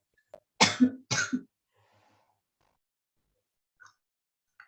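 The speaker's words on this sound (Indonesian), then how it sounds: "Saya mohon maaf nih ya, masih agak batuk begitu" Two sharp, close coughs in quick succession, followed by near silence with a couple of faint small sounds.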